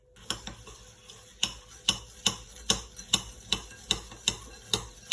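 A spoon stirs melted butter into crushed speculoos biscuits in a bowl, tapping and scraping in a steady, even rhythm of about a dozen close, crisp strokes.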